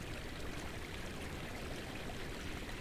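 A waterfall beside an open-air bath in the video game Conan Exiles, a soft, steady rush of falling water heard faint and continuous with no other sounds.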